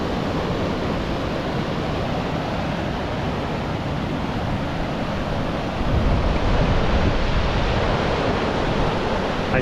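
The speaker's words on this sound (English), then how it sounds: "I see spray coming up down there, so there's a bigger fall." Water pours down a bush waterfall in a steady, dense roar with no breaks, close and loud, swelling slightly louder toward the end.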